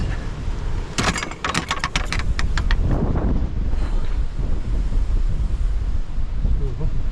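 Strong wind buffets across an open fell hilltop in the Northern Pennines, a loud, constant rumble of gusts hitting the microphone, with a few brief clicks and bangs early on and some faint voice underneath.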